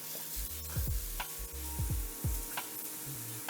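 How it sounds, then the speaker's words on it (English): Onions fry in a pan for shakshuka, giving a soft steady sizzle with several low, sweeping stirring scrapes and thumps close by. "So the onions cook until they are translucent, just for a few minutes."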